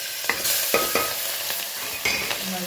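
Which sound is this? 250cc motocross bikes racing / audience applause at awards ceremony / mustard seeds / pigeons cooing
mustard seeds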